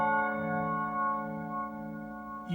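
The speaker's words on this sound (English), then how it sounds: "you can get these sort of constantly shifting filtered reverb sounds" Rich, bell-like synth tones from an Empress ZOIA ring out with many stacked overtones, slowly swelling and shifting in color as a constantly shifting filtered reverb wash sustains beneath them.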